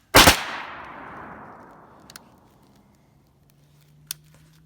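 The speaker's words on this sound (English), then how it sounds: "It fires on the pull and the release, so that you get 2 shots per trigger pull, like this." A rifle fitted with a Fostech Echo 2 binary trigger fires one loud, sharp shot that rings out and decays slowly outdoors, then two faint, brief snaps follow later.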